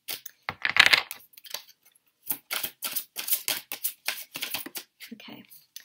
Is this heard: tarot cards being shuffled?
yes